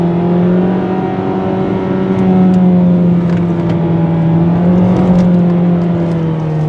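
A Kia Soul's 2-liter engine pulling in power mode, a steady, loud droning hum from inside the car that swells slightly and eases, heard alone without talk.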